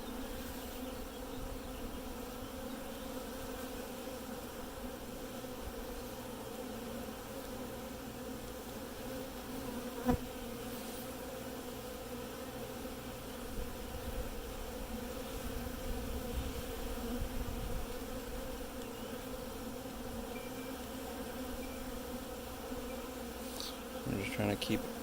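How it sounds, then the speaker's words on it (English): Honeybees swarming around an open hive while frames are lowered back in, a steady, dense buzzing hum that stays constant and close for the whole stretch, with a faint knock partway through and no talking. "the frame going down slowly so that the bees have time to get out of the way"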